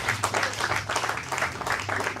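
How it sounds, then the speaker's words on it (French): A church congregation applauding during a sermon, heard as steady, dense clapping from many hands close by, with a low background hum and no clear talk. "Acclamons pour la gloire de Dieu."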